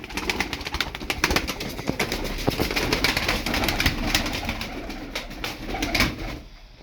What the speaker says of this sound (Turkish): Kuşların gördüğünüz çoğu soyunlu. Yani taklasını gösteriyor kuşlar.